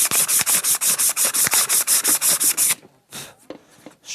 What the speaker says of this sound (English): So let's just shine that shaft up a little bit.